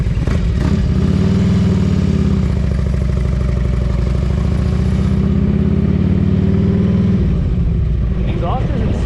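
A 2004 Harley-Davidson Road King with Python exhaust idles nearby with a steady, loud low-pitched throb and rapid pulsing rhythm, then cuts out near the end as a voice briefly speaks.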